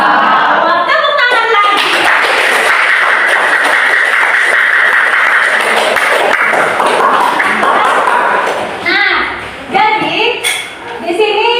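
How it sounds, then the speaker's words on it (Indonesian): Applause in a classroom, a loud burst of children clapping together for several seconds amid voices, then breaking up into scattered claps and chatter. "Tepuk tangan lagi."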